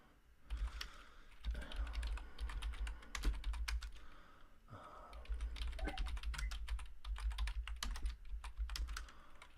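Rapid keyboard typing on a computer during an online chess variant game, a steady run of close, crisp key clicks in irregular bursts with short pauses, and no voices.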